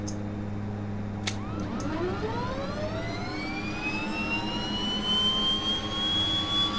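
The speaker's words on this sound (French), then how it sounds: "Mais là, j'ai un moteur qui ne marche pas." A Twin Otter turboprop engine in a flight simulator game whines steadily, its pitch rising gradually as it spools up, with a brief clicking noise early on; no talking.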